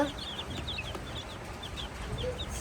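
Chickens cluck softly in short, scattered bursts at a distance, over a faint background hum.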